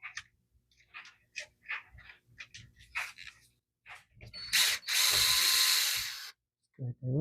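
Power screwdriver removing screws from a Canon Maxify MB2320 printer printhead: small clicks and ratcheting bits, then a loud whirring run of a couple of seconds, close up, with a voice talking in the first part.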